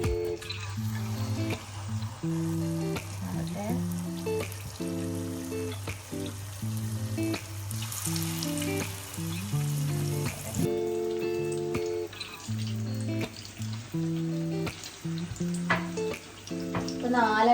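Slices of small ripe banana coated in batter bubble in hot coconut oil as pazham pori, a soft continuous crackling fry running steadily beneath prominent background music throughout.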